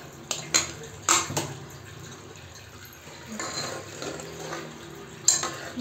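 A lid clinks off a pot of chicken chalna with coconut, sharp metallic taps and scrapes of utensils against the vessel scattered over a few seconds, close by in a quiet kitchen.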